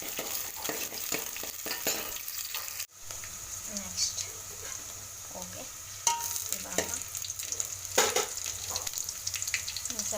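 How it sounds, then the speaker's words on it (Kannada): Onions fry in a pan for a fenugreek-leaf pulao, a soft steady sizzle broken by stirring scrapes and clatters, with a brief dropout near the start and a few sharper knocks later. "ಸ್ವಲ್ಪ ಈರುಳ್ಳಿ ಹಾಕೋಣ ಈರುಳ್ಳಿ ಕೆಂಪಗೆ ಹಾಕ್ಬೇಕು"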